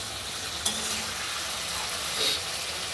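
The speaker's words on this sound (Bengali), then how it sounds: "মশলাটা কষাতে কষাতে তেল বেরিয়ে গেছে" Spice masala fries in oil with a steady, close sizzling hiss, broken by a brief utensil tap and a short flare of louder crackle toward the end.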